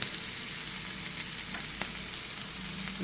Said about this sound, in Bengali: পেঁয়াজগুলো ভালো করে ভেজে নিই।